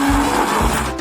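A kitchen blender whirs steadily for a brief moment, mixing a scoop of ice cream with a little mustard, loud and close.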